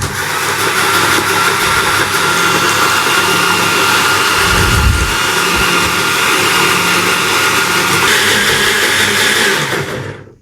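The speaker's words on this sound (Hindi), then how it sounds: "अब हम इमली आलू बुखारे के गुदे को अच्छे से ग्राइंड करेंगे।" A blender grinds tamarind and dried plum pulp for a summer sharbat, running loud and steady for about ten seconds with a continuous motor whine and churning, then cutting off at the end.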